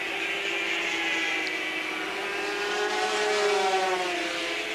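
Racing motorcycles at the 1979 British Grand Prix, a high-pitched engine whine rising and falling as machines scream past at a distance, blurred together in one sustained race-circuit drone.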